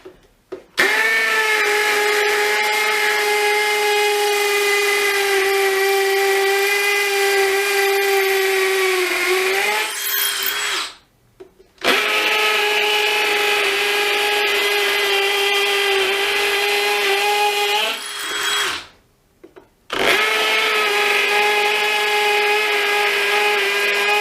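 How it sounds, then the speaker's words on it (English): A DeWalt Atomic DCD709 combi drill in hammer mode with a 6mm Kango masonry bit grinds steadily into a very hard masonry block in two long bursts, with a high whining tone and a short pause between them. "we're in hammer mode. This is 6mm. It's by Kango, this big piece, and it is a proper masonry bit."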